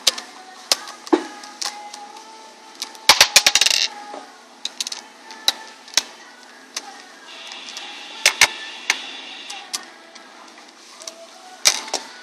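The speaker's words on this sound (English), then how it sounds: "first thing first, undo those two screws" Small metal clicks and sharp ticks come from screws being undone on an Andis Master hair clipper blade, with a brief rattling burst near the start and isolated clicks spread across a quiet background.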